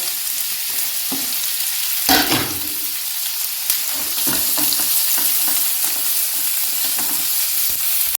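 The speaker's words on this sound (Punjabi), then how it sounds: "ਆਪਾਂ ਨੇ ਤੜਕਾ ਰੱਖਿਆ ਹੋਇਆ ਭਿੰਡੀਆਂ ਲਈ ਤੇ ਇਹ ਪਿਆਜ਼ ਪਾ ਦਿੰਨੇ ਆ" Onions sizzle and crackle steadily in hot oil, close up, with a few scraping stirs and brief spatters over the constant frying hiss.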